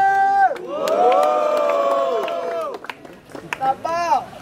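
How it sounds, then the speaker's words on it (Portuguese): A rap battle crowd roars and shouts in a long sustained swell at the grand final of a Brazilian freestyle battle, loud and close, then breaks into scattered bursts of yelling. "Barulho pra essa batalha, família!"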